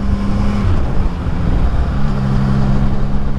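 A steady, loud CF Moto 675 NK motorcycle engine rumble hums at low revs around 1500 rpm, constant and close, with road noise underneath.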